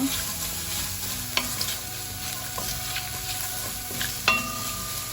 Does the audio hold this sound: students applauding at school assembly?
no